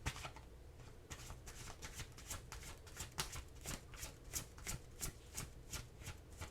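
An oracle card deck is shuffled before a card is drawn, giving a quiet, even train of rapid riffling flicks that repeat steadily throughout at close range.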